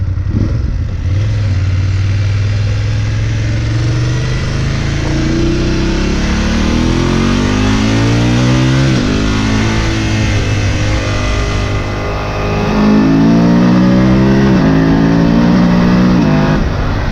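A BMW F 850 GS or Triumph Tiger 900 motorcycle engine revs loud and close, with a continuous throaty drone that climbs and falls through repeated throttle blips, pitch sweeping up and down with no speech.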